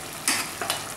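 Cooked mutton and its stock are poured into a hot pan for a white mutton stew, giving two brief, close splashing sizzles in quick succession.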